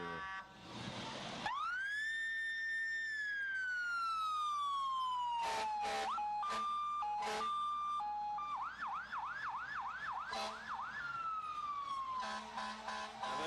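A fire rescue unit's siren passes in a county fair parade, opening with a rising wail, then sliding tones, short horn blasts and a fast yelp before easing off, fairly clear against crowd ambience.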